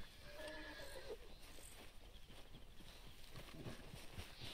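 A horse in the video game Red Dead Redemption 2 whinnies loudly near the start, followed by soft clip-clopping hooves and shuffling steps over quiet ambient outdoor sound.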